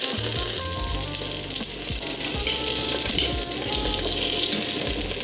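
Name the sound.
steak searing in a pan for poke bowl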